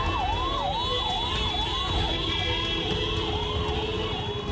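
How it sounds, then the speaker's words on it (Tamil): A private hospital ambulance races through busy Basheer Bagh traffic with its siren on. The loud, continuous rising and falling wail repeats over a dense hum of road noise. "சைரன் ஒலியோடு வேகமாக வந்து கொண்டிருந்தது தனியார் மருத்துவமனையின் ஆம்புலன்ஸ் வாகனம் ஒன்று"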